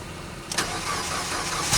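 A car with 54,584 miles on it cold-starts on a winter day: after a quiet pause, the starter cranks briefly, then the engine catches and settles into a steady running sound, alone and close.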